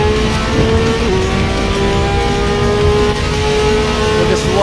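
A LaFerrari's engine drones loudly and steadily in the Racing Master video game, holding a high sustained pitch with a brief shift, with no talk.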